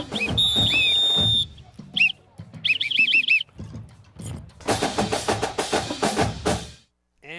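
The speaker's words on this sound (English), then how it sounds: "And he also wants his own whistle." A referee's whistle shrills during a high school football game, Dade County against Chattooga, in several short, loud, pitched blasts mixed with bursts of crowd and field noise.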